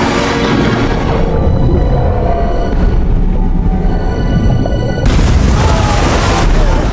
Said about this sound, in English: The chain reaction from the explosion caused more bombs to detonate.